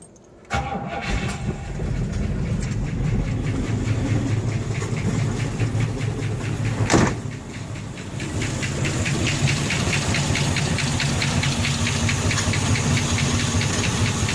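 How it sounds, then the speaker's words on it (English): A 1962 Buick engine cranks and catches, then runs steadily at a loud, close idle with a constant rumble and faint knocking, with a brief surge partway through. "We got the engine started"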